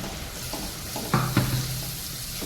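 Onion, tomato and green chili paste frying in oil in a pan, a steady soft sizzle throughout with a brief louder stir or scrape near the middle, no talking.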